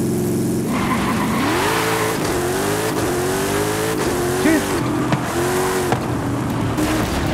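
A Hyundai Elantra in Forza Horizon 5 revving and accelerating, its engine tone climbing and dropping through gear shifts with tire squeal, while someone talks over it.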